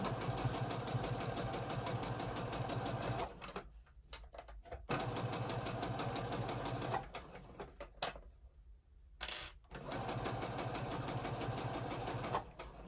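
A sewing machine runs in fast, even bursts while stitching a fabric mask and scrub cap. Two short pauses break the steady mechanical chatter, and a back stitch follows before it resumes at full speed.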